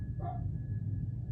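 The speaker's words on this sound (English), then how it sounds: "Hugo's now barking" A dog named Hugo gives a single short bark at middle distance outdoors, brief and moderately loud over a low steady background hum.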